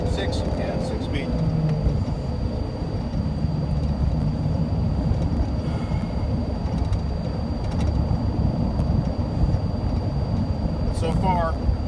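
A 2007 Honda Civic Si with a six-speed manual driving on the road, a steady low engine and road rumble filling the cabin, with people talking inside over it.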